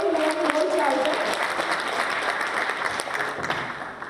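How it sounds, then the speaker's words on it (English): A large audience at the India Space Congress 2024 day-two opening session applauds in dense, sustained clapping that fills the hall and slowly tapers off, with a voice faintly audible over it. "can we have a big round of applause?"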